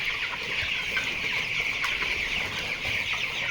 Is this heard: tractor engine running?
no